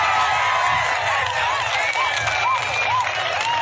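Crowd at a political rally in Tallarevu applauding steadily, dense continuous clapping with cheering that fills the whole stretch while a speaker's amplified voice carries over the top.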